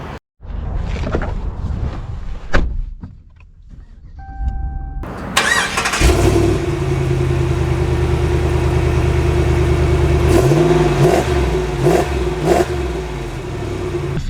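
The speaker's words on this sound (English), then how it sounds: "officially setting off in the Tradesman Power Wagon" A Ram Power Wagon Tradesman 2500 HD pickup truck starts up with a burst of cranking, then settles into a steady, loud, close engine rumble as it gets underway, with brief revs lifting the note.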